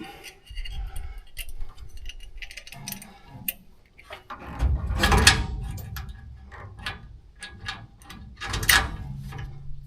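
A ratchet tightens bolts on new mounting hardware for a 1968 Chevrolet C10 truck, giving bursts of quick clicking and metallic mechanism noise at close range, with pauses between the runs.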